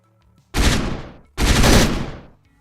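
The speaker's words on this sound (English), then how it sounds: "I shot both of them." Two loud, sharp bursts of video game gunfire, each lasting under a second, close and alone with no talk.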